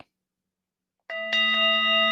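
A gong-like metallic chime rings out after a second of silence, struck twice in quick succession and sustaining a bright, ringing tone to the end.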